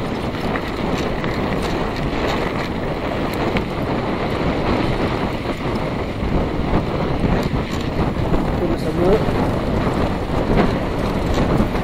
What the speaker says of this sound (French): Là, on a un petit vent qu'on apprécie.